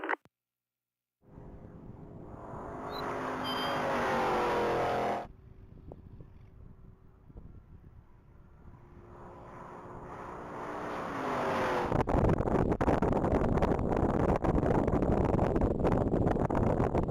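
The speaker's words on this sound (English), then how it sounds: "And that Camaro went through the mile at a 145 flat." A silver 2002 Camaro SS accelerates down a mile-long top-speed racing course, its engine roar building and rising in pitch, dipping briefly, then climbing again into a loud sustained run with heavy wind noise at the microphone.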